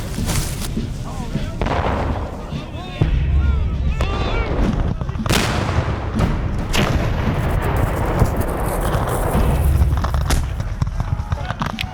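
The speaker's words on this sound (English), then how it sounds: "cannons roared, carbines cracked, and musket volleys rolled." Civil War cannon, carbine and musket fire sounds in a battle scene, with heavy booms, sharp cracks and rolling volleys repeating across the stretch, and voices shout over the gunfire.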